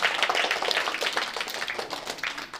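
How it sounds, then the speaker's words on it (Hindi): Small group of schoolchildren clapping together in a village classroom, a brief, close burst of quick, slightly uneven hand claps with no talking over it. "एक बार ताली बजाओ बच्चों के लिए"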